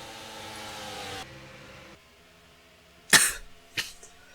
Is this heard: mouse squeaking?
no